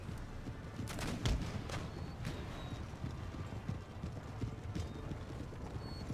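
Cavalry hooves clatter in the game Empire Total War as a regiment of horse moves up, a faint, busy patter of clip-clop over a low battlefield rumble with occasional thuds.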